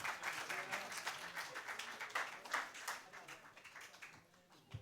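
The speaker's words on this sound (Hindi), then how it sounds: "जोरदार तालियों से इस्तकबाल करेंगे असलम हसन साहब" An audience at a mushaira poetry gathering at the Novotel Juhu welcomes a poet with steady, dense applause that holds strong and then thins toward the end, with no talking over it.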